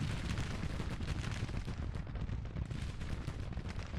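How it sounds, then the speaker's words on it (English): Cannon fire and musketry from a Confederate army in the Grand Tactician strategy game form a dense, unbroken roar of overlapping booms and crackle, heard loud and close without any voices. "Just going to have you stand behind this cannon and shoot it as the infantry marches into the side."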